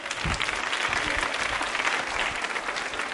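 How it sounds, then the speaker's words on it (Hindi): Studio audience at a quiz show at a women's polytechnic college breaking into dense, steady applause, a continuous wash of many hands clapping at even loudness from start to finish. "तालियां तो बजती रहनी चाहिए।"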